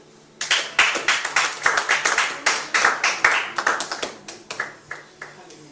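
A church congregation claps in rhythm, a bright burst of many hands building quickly and continuing in steady pulsing waves for several seconds, close and loud, with voices mixed in underneath.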